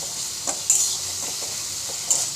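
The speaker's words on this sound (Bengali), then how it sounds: "এবারে আদা রসুন পেঁয়াজটা এটা ভালো করে কষিয়ে নেব" Ginger, garlic and onion frying in a pan while being stirred, a steady moderate sizzle broken by a few scraping strokes of a spatula.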